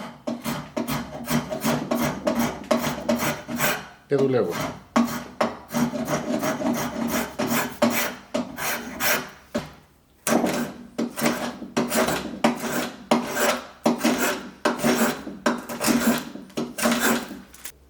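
A spokeshave shaves wood in quick repeated strokes, a rhythmic rasping scrape with a brief pause midway and a faint word spoken.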